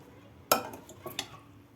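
Beetroot salad stirred in a bowl, a few light clinks of a utensil against the dish in quick succession, close and quiet.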